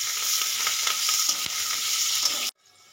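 Chopped onion and green chili sizzle loudly in hot oil for a Bengali fish curry with pangas fish, a dense, close, steady hiss that cuts off abruptly near the end, leaving quiet room tone.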